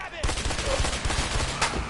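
Rapid gunfire crackles in The Way Out video game, a dense run of loud sharp shots in quick succession, near and sustained.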